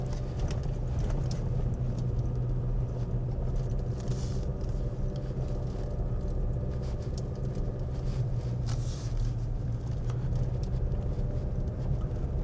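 A vehicle on Falken Rubitrek A/T tires, in two-wheel drive, rolls over a lightly slushy, snowy winter road, giving a constant loud rumble of tire and road noise from inside the cab without a break.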